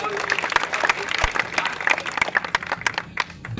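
An audience claps enthusiastically at a kavi sammelan poetry gathering at a fair, dense sustained applause filling the space with scattered sharper claps.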